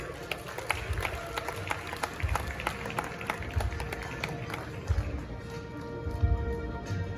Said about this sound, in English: another big round of applause as we welcome here to the stage our winner